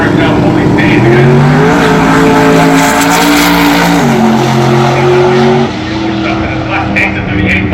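A drag race car makes an eighth-mile run, its engine roaring loud and continuous with rising, shifting tones that dip at a gear change, heard close with no talking over it.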